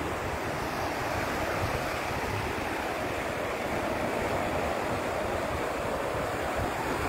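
Sea waves wash against the shore in a steady, broad rush of surf, close and constant, with wind buffeting the microphone.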